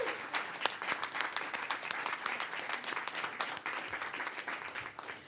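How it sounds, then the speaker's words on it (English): Sustained applause from an awards ceremony audience, dense steady clapping throughout with no talk over it. "Everyone, a round of applause for Gleisha Dela Cruz."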